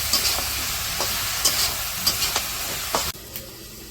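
Vegetables sizzle and fry with spices in a pan while a utensil stirs them in short scraping bursts; steady loud hiss, close, without talk.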